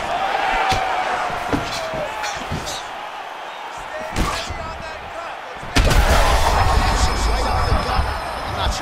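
Punches land in a UFC 5 video game heavyweight fight, with several sharp heavy impacts spread unevenly over continuous crowd noise and excited commentary.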